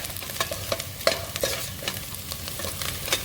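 Fenugreek leaves and chana masala fry and get stirred in a pan, with a steady sizzle running under repeated scraping strokes of a spoon. The stirring comes every fraction of a second, close and moderately loud, with no talking.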